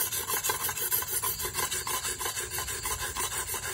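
A rubber tapping knife is sharpened on a stone with quick, steady back-and-forth rasping strokes, each scrape repeating evenly and close up.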